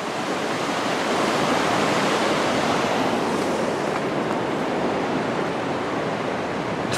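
The San Gabriel River, running after heavy rains, gives a steady, loud, broadband rush of flowing water with some wind noise on the microphone and no voices.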